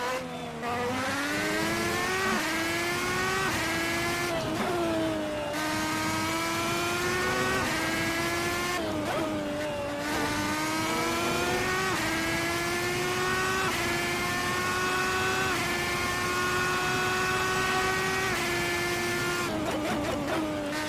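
The Red Bull X2010 fan car laps a circuit in a racing game, its high engine whine rising through each gear and cutting at every shift, loud and steady throughout with no talk.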